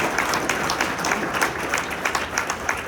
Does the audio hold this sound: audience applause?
yes